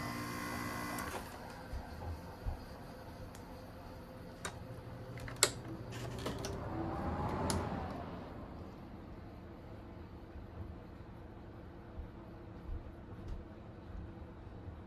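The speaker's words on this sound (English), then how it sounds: "I'm gonna go ahead and turn the compressor off now." A 2012 Frigidaire 5,000 BTU window air conditioner's compressor shuts off: a low hum fades after a second, then come scattered clicks and a brief swell of noise before the room goes nearly quiet.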